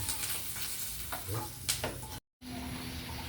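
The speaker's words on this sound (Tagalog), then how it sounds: "Ito yung embutido natin. Oh. Magpiprito tayo." Embutido fries in a pan at breakfast, giving a soft continuous sizzle with light stirring and scraping touches, faint and close, interrupted by a brief cut to silence before the sizzling continues.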